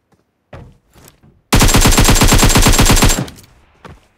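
A loud, close machine gun rattles off one rapid sustained burst of about a second and a half in a video game, with a few scattered shots before and a quiet tail after.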